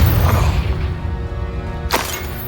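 Confringo blast spell fired in a Harry Potter video game, a sudden bright burst near the end over a dense, rumbling game soundscape of low booms and ambient noise.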